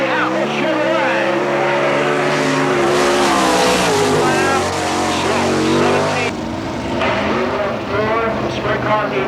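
A sprint car engine on the Apple Chevrolet entry screams at high revs during a qualifying lap at Selinsgrove, Pennsylvania, rising and falling through the turns, loud and close, with a track announcer talking over it.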